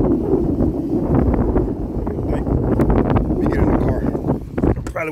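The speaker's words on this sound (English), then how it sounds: "Probably won't be able to hear me with that wind" Strong, steady wind buffeting a microphone, a dense low rumble with gusty roughness throughout, and faint sounds of movement underneath.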